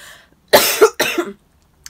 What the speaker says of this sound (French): J'ai envie de tousser.